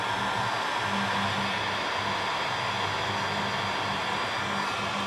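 Heat gun blowing on medium heat over vinyl car wrap, a steady close airy roar with a faint low hum running throughout and no talk.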